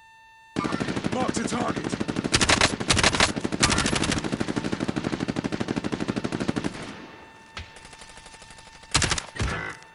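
Rapid automatic gunfire rattles through a Call of Duty Modern Warfare match, a long sustained burst of loud shots followed by quieter pauses and a final short burst, with a brief voice call over it.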